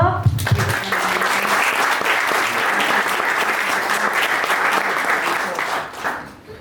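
A crowd breaks into applause after a brief voice at the start, a steady wash of clapping that holds evenly for several seconds before trailing off with a voice near the end.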